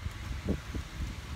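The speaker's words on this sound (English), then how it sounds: "it is very windy out here" Wind gusts buffet an outdoor microphone beside a parked Jeep, a steady low rumble with a few soft surges, close and fairly quiet throughout.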